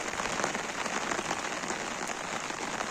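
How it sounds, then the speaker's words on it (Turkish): Steady rain pattering on a garden beside olive trees, a dense even hiss of drops with no voices, close and continuous throughout. "Şöyle gördüğünüz gibi çok güzel yağıyor."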